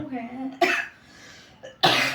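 Two short, sharp coughs from a person, separated by about a second, with a brief murmur of speech before the first.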